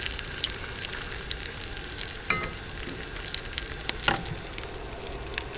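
A hamburger steak fries on a cast iron pan, giving off a steady close sizzle and crackle with small spits and pops, and no voices.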